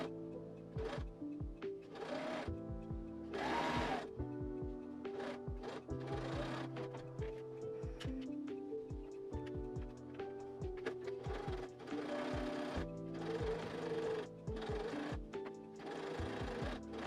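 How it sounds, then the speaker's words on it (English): A sewing machine runs basting stitches along the bottom edge of a dress yoke piece, in rapid mechanical bursts of varying length separated by brief pauses, close and steady throughout. "I'm going to sew 2 basting stitches along the bottom edge of the front yoke piece"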